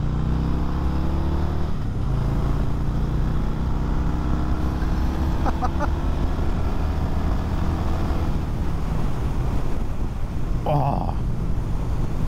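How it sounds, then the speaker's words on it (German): A Harley-Davidson Heritage Softail motorcycle accelerates hard, its deep engine drone rising steadily under heavy wind rush, loud and close throughout, with a short exclamation from the rider. "ich gebe selten, wirklich sehr, sehr selten so Gas mit der Harley"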